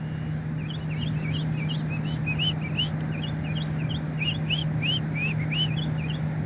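A bird perched on a pole across a street calls repeatedly from a short distance, a rapid series of clear, high, slurred whistled notes over a steady low traffic hum.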